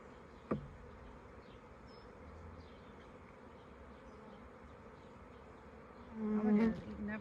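Honeybees hum in a steady, close drone throughout a full hive inspection on a hobby farm, with a sharp knock early on and a louder, nearer buzz swelling near the end.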